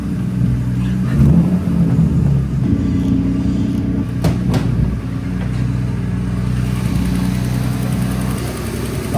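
A turbocharged BMW E36 engine revs while driving, a loud steady mid-pitched drone that swells and eases with throttle, heard from inside the car.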